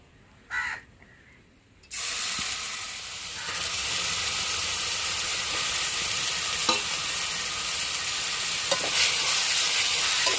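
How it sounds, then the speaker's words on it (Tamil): Grated beetroot frying in ghee for beetroot halwa, stirred in the pan: after a brief clatter and a pause, a loud steady sizzle takes over and holds for the rest of the clip, with occasional scrapes of the spoon and no talk. "இதே நையில் செதுக்கி வச்ச பீட்ரூட்டை சேர்த்துக்கிறோங்க"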